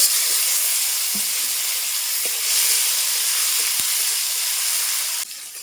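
Potatoes, cumin and chopped tomato fry in mustard oil, giving a steady close hiss and sizzle throughout with a few faint clinks, no talking.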